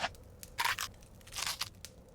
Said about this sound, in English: And they nibble and they munch with a chew,